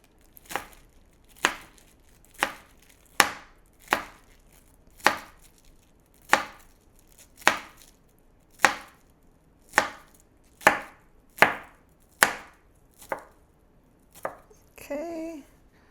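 A knife chops vegetables on a cutting board while preparing filling for homemade Chinese dumplings, a steady series of about twenty crisp, evenly spaced thwacks, close and clear, ending with a brief rustle.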